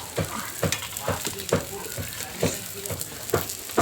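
Fish frying in a pan on a gas stove, a steady sizzle broken by regular scraping strokes of a utensil roughly twice a second, close and moderately loud.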